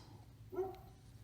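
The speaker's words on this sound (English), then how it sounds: "The dog is barking at the wind." A dog gives a single short, faint bark outdoors, somewhat distant, over a low steady background hum.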